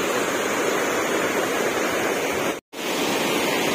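A stream flows at Vandri lake with a steady, full rush of water near the listener. A very brief silent gap cuts in near the end.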